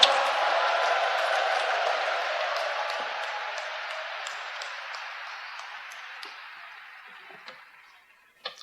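A large audience cheers and applauds at a church dedication ceremony, a dense roar of clapping that fades gradually toward quiet, with a few isolated claps at the end.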